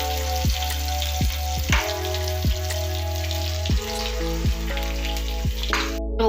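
A sesame tempering for rava dhokla sizzles in hot oil, a continuous close crackle with scattered pops over faint background tones until it cuts off at the end.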